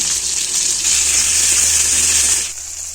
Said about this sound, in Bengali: তেলের মধ্যে এই টমেটোটা দিয়ে দেবো।